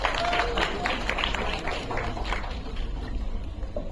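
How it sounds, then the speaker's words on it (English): Audience applause at a press conference for the Sikandar trailer launch, greeting Satyaraj: a steady wash of crowd clapping and cheering, fairly loud and sustained throughout. "can we have a big round of applause for Satyaraj sir?"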